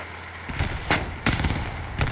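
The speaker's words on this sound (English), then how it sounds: "the blowing off a tank in this game, no matter where you're from, it is always amazing" Tank blowing up in Hell Let Loose, a World War II shooter, heard as a quick run of four or five sharp explosive blasts and thuds at irregular intervals over a low rumbling battlefield bed.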